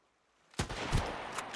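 Gunfire in the survival game Sunkenland breaks out after a brief hush: a loud close shot, then a rapid run of further cracks and echoing reports, with no voices over it.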